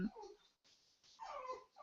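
Dog whimpering indoors, a few faint, thin whines and whimpers in short bursts separated by brief silences.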